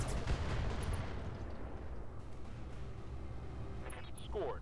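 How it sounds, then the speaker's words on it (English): Mech weapons firing in the RogueTech video game: a dense, rumbling barrage of booming blasts that starts loud and slowly fades, with a brief whoosh near the end. "Let's just not move and fire. Firing everything straight out."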